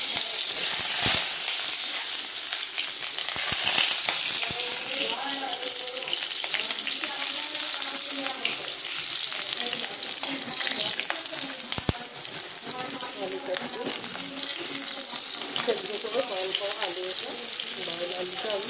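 Potato pieces frying in a pan with a loud, continuous sizzle and occasional stirring clatter, close up, with faint background voices.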